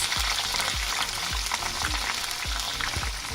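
Jengkol beans sizzle steadily in oil in a pan, with low thumping knocks recurring every half second or so as they are stirred or turned.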